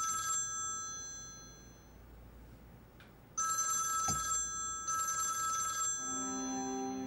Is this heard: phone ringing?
yes